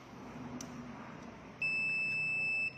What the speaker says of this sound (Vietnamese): Rồi chúng ta sẽ nghe tiếng bíp bíp.